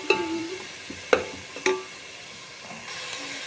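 Chopped onion softening in a pan for a traditional Goan pork and beef stew, a soft continuous sizzle with a few sharp stirring clatters, close and moderately quiet, no talk.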